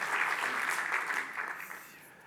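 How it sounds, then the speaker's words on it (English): Audience applause for a city mayor at the opening night of a film festival in New York, a steady, dense wash of many hands clapping that fades slightly toward the end, with no talk over it. "let's try to give that applause again for our mayor"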